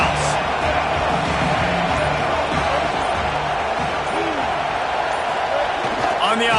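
A stadium crowd at a college football game keeps up a sustained roar and cheering in the background, with a broadcaster's voice speaking over it throughout.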